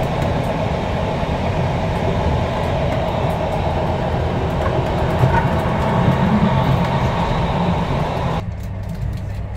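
Steady rumble of a train rolling along rails at about 122 km/h in Norway near Bergen, a continuous close, loud roar with faint rhythmic clatter that drops off abruptly near the end.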